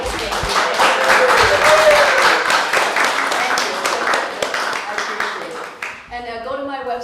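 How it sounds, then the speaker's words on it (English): Crowd at an outdoor peace festival art show applauds and claps steadily for several seconds, a dense, loud wash of hands with voices mixed in, tapering toward the end as talk and other sounds take over. "So just a huge round of applause."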